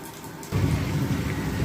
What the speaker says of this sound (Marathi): तुम्हाला आवाज येतच असेल आभाळाचा गडगडाट